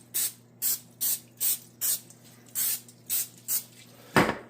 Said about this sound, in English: And I'll spray that with a little olive oil.